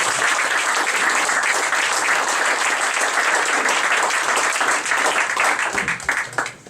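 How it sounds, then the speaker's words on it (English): An audience at a city report meeting gives a round of applause, loud, dense clapping that holds steady for several seconds before thinning out toward the end. "join me in giving Nathan a round of applause."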